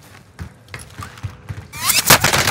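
Scattered gunshots pop in Warzone Rebirth, a few separate cracks at mid distance, then a louder, denser burst of firing and noise takes over toward the end.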